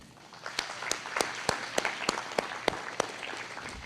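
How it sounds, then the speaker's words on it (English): A banquet audience at a county sports hall of fame induction gives another round of applause, with a dozen or so distinct sharp claps standing out evenly spaced over a soft, thin bed of clapping. "let's give the 20th annual induction class in the Macon County Sports Hall of Fame another round of"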